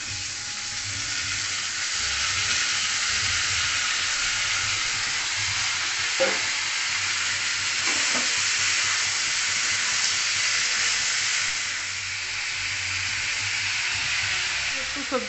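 Potato and eggplant pieces fry in a pan with a steady, close sizzle and hiss that runs evenly throughout, broken by a few faint stirring clinks.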